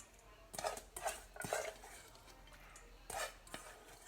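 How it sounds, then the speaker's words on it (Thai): Soft, irregular bursts of mixing chopped banana blossom in a bowl, scraping with several quick strokes and short pauses between, close by with no talking. "เราจะมาคลุกเคล้าให้เข้ากัน"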